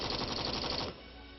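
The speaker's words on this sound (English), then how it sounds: "it has developed a new lighter-weight general-purpose machine gun" A lighter-weight general-purpose machine gun fires a short rapid burst of rhythmic shots that stops abruptly, leaving a faint background hum.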